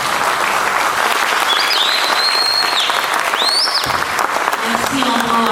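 A large crowd applauds at a gathering, a loud, steady wash of clapping that runs throughout, with a few whistles or cheers on top.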